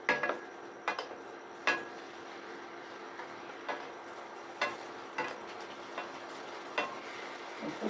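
Spiced potato and fish curry in a pan coming to a boil, with a soft steady bubbling hiss broken by about a dozen sharp clinks and scrapes of a utensil against the pot, no voices.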